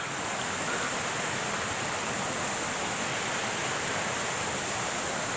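The Blang Kulam waterfall in North Aceh gives a constant, dense roar of rushing water, loud and unbroken throughout, with no voices.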